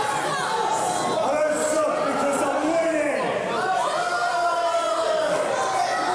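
Crowd noise from a live wrestling event, a steady roar of cheering and chatter with voices rising and falling, loud and continuous throughout.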